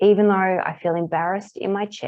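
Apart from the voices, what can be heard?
No everyday noises stand out.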